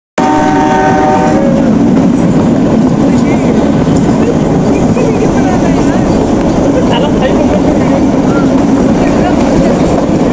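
The Kalka-Shimla toy train runs on its mountain line near Shimla, Himachal Pradesh, a loud close rumble of wagons over the rails with a brief horn at the start and voices mixed in.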